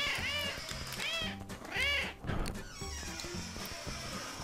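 Several cartoonish cat meows repeat in quick succession in the video game CatNab, rising and falling calls over a pulsing game soundtrack, fairly quiet overall.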